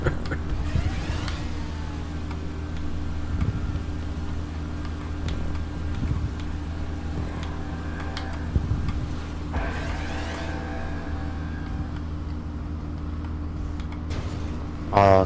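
Motorbike engine in GTA 5 Online, a steady droning hum with sustained tonal bands and occasional revving rises, ridden continuously at moderate loudness without talk.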